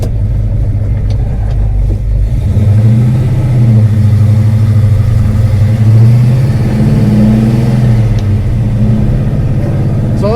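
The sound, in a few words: car engine while driving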